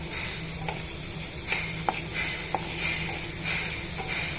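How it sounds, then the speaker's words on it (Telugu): Garlic cloves and cumin seeds frying in hot oil for a peanut chutney, a steady soft sizzle and hiss with a few faint clicks of a spoon against the pan. "ఇవన్నీ మిక్స్ చేసేసి ఈ ఆయిల్లోకి వేసేసుకొని కొంచెం సేపు వేగనివ్వాలండి"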